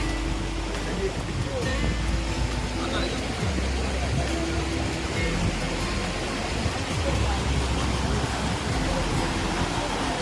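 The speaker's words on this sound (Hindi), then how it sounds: "वाह कितनी अच्छी आवाज़ लग रही है। ओ अभी उधर है कहीं वाटरफॉल" Tiger Waterfall near Chakrata, Uttarakhand, sends a steady, dense roar of rushing water from a distance, continuous and unbroken, while someone talks over it.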